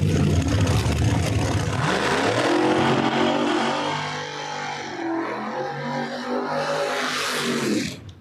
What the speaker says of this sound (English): car dies in the burnout